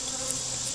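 Dense, continuous buzzing of many honey bees in a top bar hive, close and steady, with no voices.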